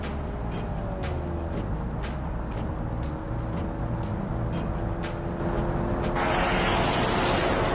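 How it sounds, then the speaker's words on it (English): A 90s American car engine revs and accelerates in the BeamNG driving game, a steady loud engine drone with rising whine and a shift of tone near the end, no voices over it. "we might as well see how much it takes for this thing to get to 0 to 60, so rev it up"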